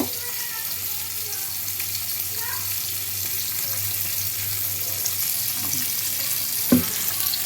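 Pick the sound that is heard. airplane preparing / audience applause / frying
frying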